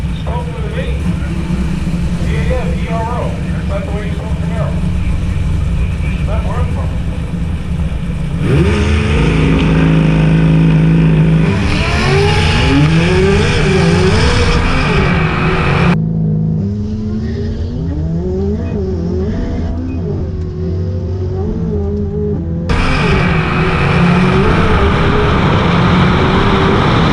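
1969 Chevrolet Camaro drag racing car roaring loud and continuous through the whole stretch, the engine note climbing and shifting with several rising revs as other race engines fill the background.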